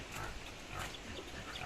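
Pigs on a farm in rural Sikkim grunt softly, with low, rough snorts and grunts running continuously through the clip at a quiet level.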